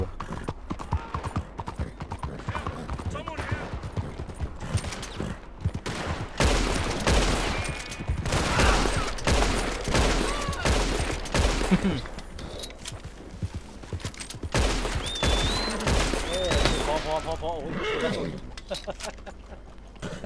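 Gunfire breaks out in Red Dead Redemption 2 among galloping horses: hooves and neighing run alongside bursts of shots, with excited voices talking over much of the action.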